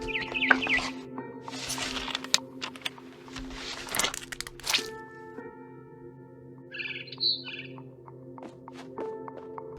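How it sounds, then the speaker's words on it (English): A barn swallow chirps outside a window in the video game What Remains of Edith Finch, with faint bird calls scattered among crinkling, crunching and thudding sounds nearby, plus a brighter chirping burst midway. "Then I heard chirping outside my window. It was a barn swallow going back to her nest."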